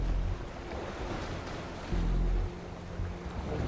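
Ocean waves in the Love and Deepspace video game wash in a steady, close wash of surf with low rumbling swells and a brief surge near the middle, no voices present.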